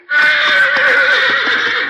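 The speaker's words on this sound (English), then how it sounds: "A masked hombre and the Indian heard that whinny." Horse whinnying as a sound effect in a 1947 Lone Ranger radio western drama: one loud, close, sustained neigh with a wavering, quavering pitch, heard alone without talk.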